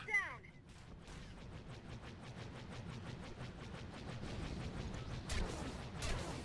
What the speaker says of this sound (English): we start moving around again to try and dodge that laser fire